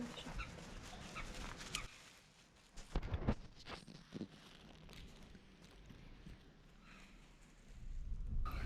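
Stray dogs at a Myanmar monastery eat leftover food, making faint scattered noises with a few sharper taps and knocks in the middle and a low background hum, quiet and fairly close, without talk.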